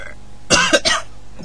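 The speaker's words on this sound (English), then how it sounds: "Cough." A single person's cough in two quick close bursts, a short sharp hack, heard alone near the microphone during a Commander Keen 5 gaming session.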